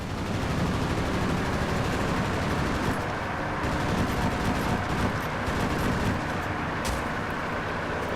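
Aircraft machine guns rattle without pause in World of Warplanes, a dense, loud, continuous stream of rapid fire layered over a steady engine drone.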